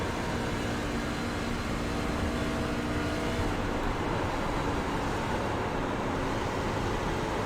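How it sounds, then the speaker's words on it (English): A race truck engine drones steadily in an iRacing video game at Chicago, a dense continuous roar with a slight shift in tone midway as the throttle lifts, no voices. "So you can hear me lifting on entry, trying to get the truck to rotate into the center where I can get back to the throttle."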